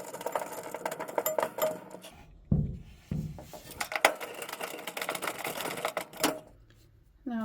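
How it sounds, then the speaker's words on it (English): Screws are driven back into the legs of a Frigidaire Affinity dryer during a heating element replacement, with rapid ratcheting clicks, a few heavier metallic clunks and scattered taps, close by with no talking. "And then we'll put our screws back in."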